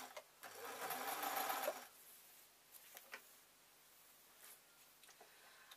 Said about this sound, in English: now that I've got the sewing machine started